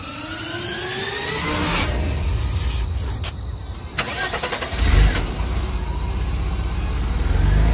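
A motorcycle engine cranks and catches, then settles into a steady idle, close and fairly loud with no talk.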